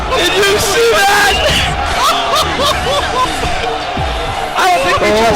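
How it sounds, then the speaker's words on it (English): Loud crowd roaring and cheering through a JV basketball game at DRS vs Magen David after a dunk, steady dense din with shouts and whoops, a commentator's excited voice riding on top. "The crowd is going nuts!"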